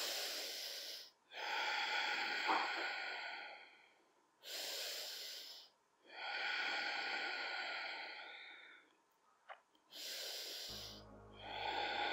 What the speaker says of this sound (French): ferme les yeux et respire fort